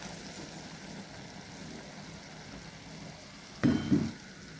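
Crumbled bhakri pieces drop into masala frying in oil, giving a quiet steady sizzle that ends in two short, louder bursts of stirring and spattering.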